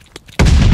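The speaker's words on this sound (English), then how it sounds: "Stun grenade out." Stun grenade blast in the video game Call of Duty: Vanguard during a patrol match, a sudden loud booming burst after a brief quiet lead-in, filling the rest of the moment.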